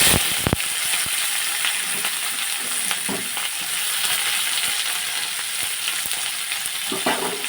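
Sliced onions browning in hot oil with a bay leaf and dried chilli in a pan, a steady close sizzle broken by occasional scraping stirs of a spatula, no voice over it.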